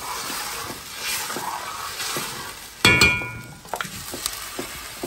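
Salted meat sautéing in a pot with a little water, a steady sizzling fry with stirring scrapes and a sharper clatter midway, close and moderately loud.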